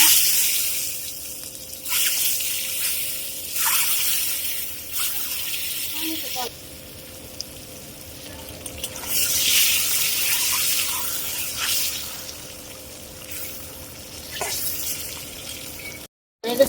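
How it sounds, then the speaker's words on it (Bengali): Eggs sizzling in hot oil with turmeric and salt in a pan, a steady broadband hiss and crackle with brief pauses, fairly close and continuous throughout. "এখন ডিমগুলো একটু ভেজে নিব"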